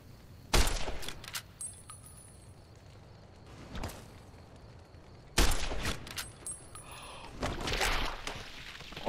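Two sharp gunshots in Fallout New Vegas on Hardcore mode, each a loud crack with a short decaying tail, several seconds apart, followed by scuffling game sounds.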